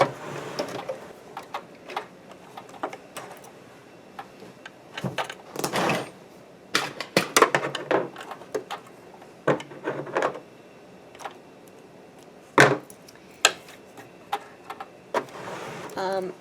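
A sewing machine stitching the belt closure of a round cage crinoline, with irregular bursts of rapid mechanical clacking and ticking separated by short pauses, fairly close and moderately loud.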